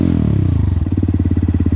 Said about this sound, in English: that's actually the comparison between having a baffle in and a baffle out with the sound